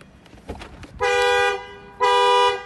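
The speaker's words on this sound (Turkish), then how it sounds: "Kapılara duyarlı bir hırsızlık alarmı." Horn of a 2015 Ford Focus Trend X, sounded by its door-triggered theft alarm when a door is opened from inside: two loud, sustained honks about a second apart, over faint background noise.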